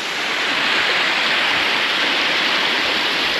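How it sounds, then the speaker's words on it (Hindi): A waterfall in Kyrgyzstan roars in a loud, unbroken wash of rushing water, heard up close with nothing else over it. "तो ये है जी यहाँ का वाटरफॉल"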